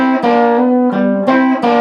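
Electric guitar plays a short G lick, picking across the fourth, third and second strings in a few distinct sustained strums with clean, bright tone, close and alone.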